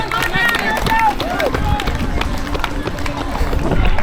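A crowd cheers and claps for runners near the finish of the Dunsaughlin 10k race, a steady roar of voices with scattered whoops and footsteps, loud and close throughout.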